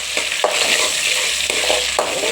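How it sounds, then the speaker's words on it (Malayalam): Garlic and curry leaves spitting in hot oil for a squid egg fry; a close, dense sizzle fills the whole stretch, broken by a few sharp stirring knocks, with no voices. "എണ്ണ ഒഴിച്ച് ചൂടാക്കി വെളുത്തുള്ളി കാര്യത്തിലേക്ക് ഇട്ട് കൊടുക്കാം അതിൻ്റെ കൂടെ തന്നെ നമുക്ക് കറിവേപ്പിലയും കൂടെ കറിവേപ്പില ഇട്ട്"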